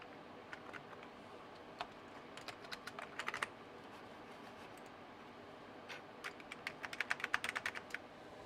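Keys clatter in quiet, uneven bursts on a computer keyboard that is acting up, with scattered single presses and then a quicker run of keystrokes near the end.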